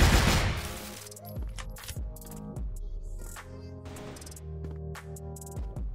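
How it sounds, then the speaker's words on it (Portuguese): Gunfire in the online shooter CrossFire, a steady stream of sharp shots and bursts from various weapons, loud in the foreground, with no talk heard. "tô tomando tiro do não sei da onde"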